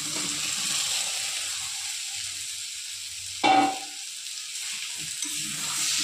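Fried soybean chunks and potatoes drop into sautéed masala in a pan, giving a steady hiss of sizzling broken by one sharp clatter and burst of frying midway, then settling back to a quieter sizzle.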